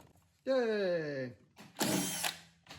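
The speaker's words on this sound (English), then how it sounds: "And then we're just gonna drill it in." A power drill whirs close up in two bursts, boring into the metal of an Atari Space Duel arcade cabinet, its pitch sliding down as the motor winds down, followed by a harsher grinding burst.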